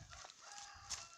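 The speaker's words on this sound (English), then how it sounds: "you see the sound of the cockerel?" A cockerel crows at a distance outdoors, its call faint and partly lost in background noise across a short stretch.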